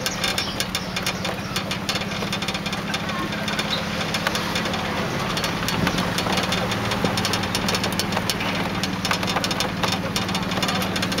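A small ride-on train engine chugs steadily at walking pace, a continuous close, loud mechanical rumble with a faint knocking rhythm that holds evenly throughout.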